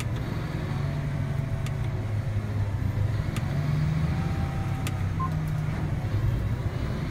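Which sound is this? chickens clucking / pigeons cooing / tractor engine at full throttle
tractor engine at full throttle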